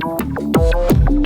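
Industrial experimental music sketch of layered tonal hits and downward-sweeping synthetic tones with a rumbling low end, dense and close throughout.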